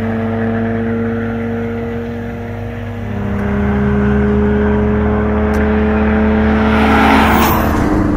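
A car engine drones at a steady hum, then its revs climb and swell louder toward the end, close by, with no voices.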